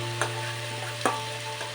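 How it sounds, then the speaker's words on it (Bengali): Masala and fish sautéing together in a pan for fish curry: a steady, close sizzle over a constant low hum, with two distinct scraping stirs of a spoon and a fainter third. "এবার আমি মশলাটা ভালো করে কষিয়ে নেব"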